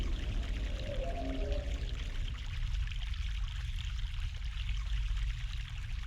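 Mountain stream water in The Longest Journey video game, a steady rushing pour with brief tonal chirps early on, then a continuous flowing wash at moderate level with no talking.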